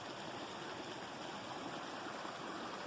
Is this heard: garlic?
no